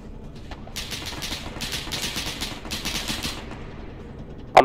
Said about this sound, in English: Something is shooting us from the ANRS.